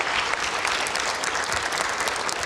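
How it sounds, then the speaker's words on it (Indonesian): A studio audience at an Indonesian television talk show on election quick counts claps steadily, a dense, even burst of applause filling the whole moment. "kita berikan tepuk tangan dulu"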